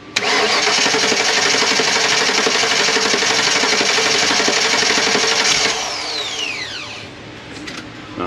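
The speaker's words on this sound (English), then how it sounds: "And starting the engine." A Ford E350 van with a 5.8 engine and bad fuel cranks with a fast, loud starter whir that catches and runs, then the sound drops into a rougher, quieter running note with a descending whine.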